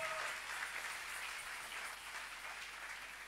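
Church congregation applauding, a dense, even wash of many hands clapping at moderate distance, steady and without pauses across the whole stretch.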